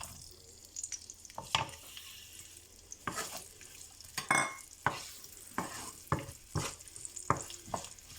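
Chopped onions hit white oil for potato bhaji, giving a steady crackling sizzle broken by sharp, irregular clacks of a spoon against the pan, close up and with no voices.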